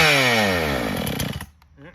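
A Makita DSC-6421 chainsaw, the same model sold as the Dolmar PS-7900, runs loud and close, its engine note sliding steadily downward as it winds back toward a low idle, then drops away near the end.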